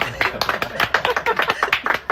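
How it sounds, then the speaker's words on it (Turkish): A Turkish streamer is applauded for his new hairstyle: a quick run of sharp, close hand claps in an uneven rhythm, with a voice partly over them. "Bir şu saçı bir alkışlayın"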